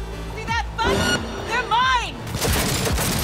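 Gunfire from the video game Cyberpunk 2077, a few loud impacts and booms mixed with swooping game effects, under excited talk from a player.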